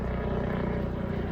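Helicopter passing overhead at night near a parked 2016 Vauxhall Vivaro van, a steady low rotor and engine drone that stays even and fairly loud throughout the short stretch, with no talking.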